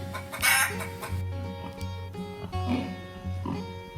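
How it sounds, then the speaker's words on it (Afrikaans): Farmyard chickens cluck in short repeated bursts with a rooster-like call early on, close and fairly loud, with no talking over them. "Daar is 2 hoenders."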